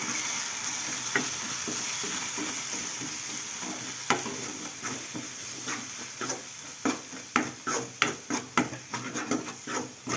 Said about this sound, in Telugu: అలాగే కొంచెం గరం మసాలా వేసుకొని మొత్తం ఒకసారి కలిపేస్తున్నాం